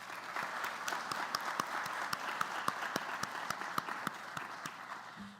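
An audience at a University of Georgia lecture breaks into steady applause to welcome guests, a moderate, even wash of clapping with some sharper claps poking out.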